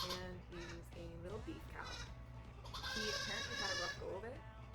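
A young beef calf on a farm bleats repeatedly in drawn-out, wavering calls, fairly close, while a person talks over it throughout.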